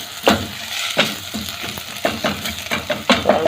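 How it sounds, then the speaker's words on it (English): Mushrooms drop into a pan of caramelized onions and start frying, a close sizzle broken by scrapes and stirring clatters from a utensil against the pan. "So it's a good time now to put in our mushrooms."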